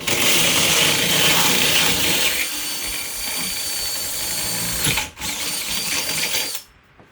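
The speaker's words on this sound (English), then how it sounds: "First step, you're going to get your 2 1/8-inch hole saw," A 2 1/8-inch hole saw on a drill cuts through a door, giving a steady, loud grinding whine that dips briefly near the end before the drill stops.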